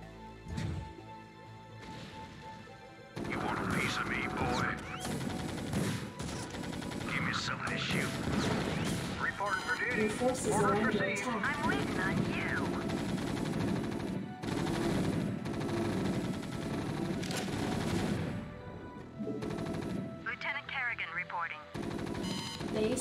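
Rapid battle gunfire and crashing impacts from StarCraft Remastered's Terran campaign fill the scene in dense, continuous bursts, with game voice alerts cutting in over the clatter.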